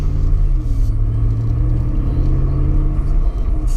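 A Ram 1500 pickup with a 5.7 Hemi V8 accelerates from inside the cab, a loud steady low engine rumble that holds without pause.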